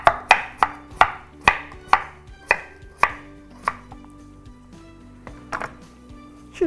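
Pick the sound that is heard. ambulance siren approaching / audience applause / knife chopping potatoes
knife chopping potatoes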